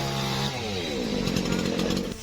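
A chainsaw runs loud and steady up close, its pitch dropping as it bites into a large tamarind tree that fell on a motorcyclist during a rescue on a road in Kendal, Central Java.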